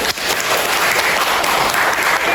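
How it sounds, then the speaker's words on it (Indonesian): Classroom applause for a student group presenting on forest ecosystems during a teaching performance session, a steady dense clatter of many hands lasting throughout. "Tepuk tangan untuk kelompok ekosistem hutan."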